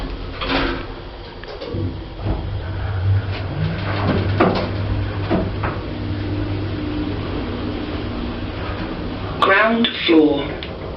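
Doors of a budget Otis Gen 2 hospital lift rumble and thud shut, then the car descends with a steady low mechanical hum; a voice briefly speaks near the end.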